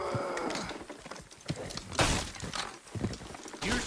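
Horses clip-clopping in Red Dead Redemption 2, hooves thudding in an uneven rhythm with a few louder stamps, close and moderately loud, alone without talk.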